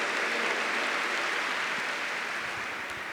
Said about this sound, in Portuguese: Aplauda o cardeal Joseph Ratzinger, que é o mesmo Papa Bento XVI.